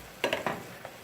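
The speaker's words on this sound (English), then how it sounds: "continue stir frying for 1 to 2 minutes" A few short bursts of sizzling from egg roll filling stir-fried with oil and black pepper in a hot pan, fading into quiet crackle.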